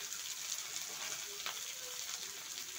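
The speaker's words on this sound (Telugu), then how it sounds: "సో వీటిని కాసేపు ఫ్రై చేసుకోవాలి." Kasuri methi and onions fry in a pan for a potato fry dish, giving a soft, steady sizzle with faint crackles, close but quiet and continuous, without speech.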